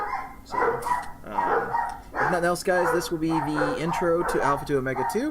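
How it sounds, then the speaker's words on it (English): A dog barks several times in the background while someone talks steadily over it during gaming commentary. "Sorry for the dog barking."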